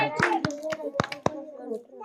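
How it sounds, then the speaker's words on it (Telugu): A small gathering in a home used as a house church claps by hand: about seven sharp, uneven claps at close range over two seconds, mixed with children's voices and chatter. "క్లాప్స్ కొట్టండి, అందరు క్లాప్స్ కొట్టండి"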